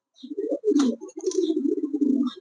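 Giribaz pigeons coo nearly continuously, close and clear, in low rolling phrases with a few brief pauses.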